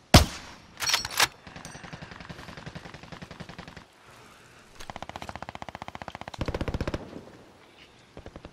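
Automatic weapons firing in a shooting video game: a couple of sharp opening shots, then long rapid bursts of fairly quiet, evenly spaced rounds with brief pauses between volleys.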